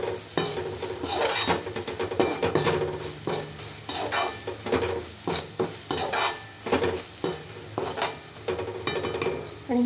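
Coriander-cumin powder and red chilli powder are stirred into a hot tempering in a pan for quick fried rice. A spoon scrapes and clatters against the metal in a busy, irregular rhythm over a light sizzle, with no talking.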